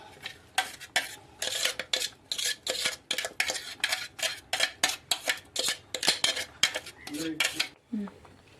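Curry with ground coconut paste stirred in a pot: a steady run of brisk metallic scrapes and clinks from a spoon against the pot, about two per second, close and clear, then slowing to a stop.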